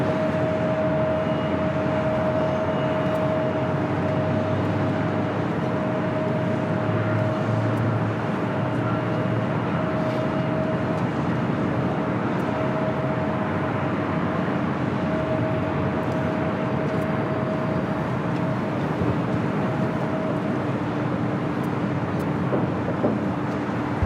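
An Airbus A350-900 jet arriving from Paris Orly at LAX, landing toward runway 24 right, gives a steady, continuous broadband roar with a faint sustained tone, distant and unchanging throughout, with no talk.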